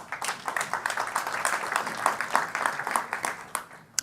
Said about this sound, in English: I didn't even do anything and you're clapping.